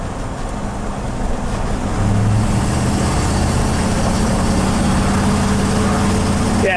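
A 1972 Ford F100 XLT short-bed pickup on a test drive, its engine droning steadily with road and wind noise, building slightly louder after the first couple of seconds, with no talking.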